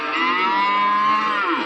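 Cattle at the Erode Karungalpalayam cattle market give one long, loud, close moo lasting over a second and a half, alone without talk.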